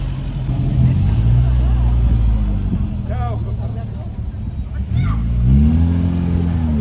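Old car engines rumble and rev nearby, pitch rising and falling in several bursts, with a person speaking briefly over the noise.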